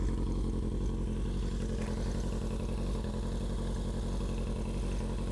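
An RF900R motorcycle with a straight-pipe exhaust runs steadily while being ridden near home, its engine giving a continuous loud, throbbing drone with fast regular pulses and no pauses.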